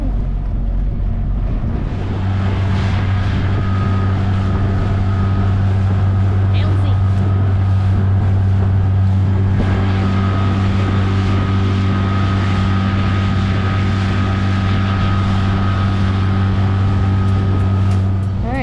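A motorized dinghy runs across the water toward a ferry dock in the US Virgin Islands. Its outboard gives a steady, close, low droning hum throughout, with wind buffeting the microphone.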